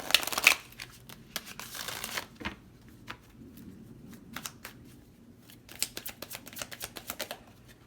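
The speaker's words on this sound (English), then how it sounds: "We're going to do one more shuffle." Tarot cards are shuffled in short crisp bursts, riffling flutters and snaps separated by brief pauses, close and fairly quiet with no talking.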